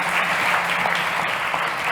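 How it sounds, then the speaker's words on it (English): An audience at a startup competition applauds, a dense, steady round of clapping that fills the whole moment. "Ladies and gents, a big round of applause for Guy Van Neck from MobiTrain."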